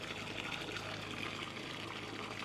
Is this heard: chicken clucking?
no